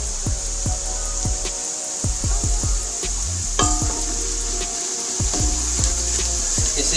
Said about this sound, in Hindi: इसे भी हम 1 मिनट के लिए भूनेंगे इंशाल्लाह